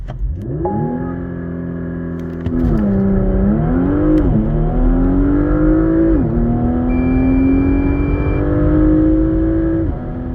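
A Porsche Macan GTS with the 2.9 V6 making a full-throttle launch run, its engine note climbing through several gears with dips at each upshift, loud and close, with no talking.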